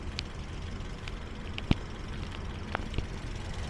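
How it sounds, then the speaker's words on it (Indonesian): A 2012 Toyota Yaris S TRD with a manual gearbox idles quietly as a low, steady, faint rumble, broken by a few small clicks and taps, with no talk. "Nah, kondisi mesinnya seperti ini teman-teman."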